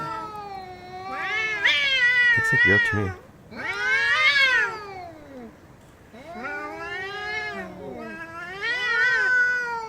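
Cats fight over territory, trading long, wavering yowls and caterwauls in four drawn-out bursts with short pauses between, close and loud, with a brief thump partway through.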